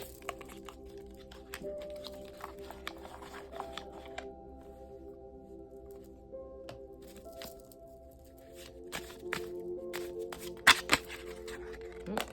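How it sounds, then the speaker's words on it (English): Affirmation cards are shuffled and pulled by hand for a tarot reading, giving soft, uneven papery riffles and flicks that run steadily close by, with a few sharper snaps near the end and no talking. "I'm going to pull some affirmation cards for a badass. I'll pull 3 of those for you"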